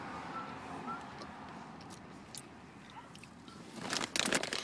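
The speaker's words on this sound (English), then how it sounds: "Now I'm gonna try baby back rib potato chip." Baby back rib flavored potato chips crunch in short, sharp bursts near the end, close and fairly quiet, above a low rumble of traffic in the background.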